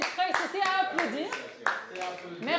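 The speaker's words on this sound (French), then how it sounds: "C'est à applaudir" A TV studio audience on a Senegalese morning show claps briefly, scattered hand claps mixed in with lively talk and voices that run through the whole moment.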